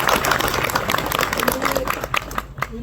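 A crowd at a political felicitation event for a newly elected MLA applauds, with dense, close clapping throughout and a voice mixed in beneath it.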